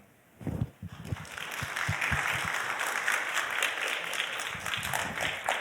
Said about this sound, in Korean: 그 열정과 성실함에 뜨거운 박수로 감사의 인사를 전해 드리고 싶습니다.